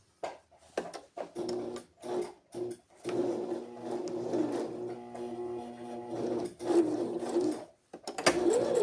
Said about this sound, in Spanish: Y ahora sí, pues voy a coser sobre la línea que hice.